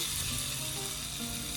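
Bread dipped in besan batter sizzles in hot oil as it is laid in the pan for a bread omelette, a steady close hiss of frying with no one speaking.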